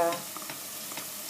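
Onions frying in a pot while being stirred, with soft sizzling and faint scraping stirs against a steady background hiss, fairly quiet and without voices.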